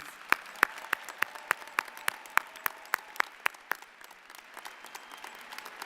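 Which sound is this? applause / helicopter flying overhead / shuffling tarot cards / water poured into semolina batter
applause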